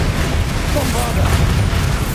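Bombarda explosion spell cast in the Hogwarts Legacy video game, a loud rumbling blast with dense low boom and crackling debris, filling the whole short moment up close.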